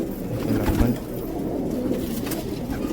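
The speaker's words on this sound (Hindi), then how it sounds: "ये देखिए लालवन घाघरे हैदराबादी कबूतर" Low, soft cooing of Hyderabadi pigeons, steady and close, with a murmur of background noise.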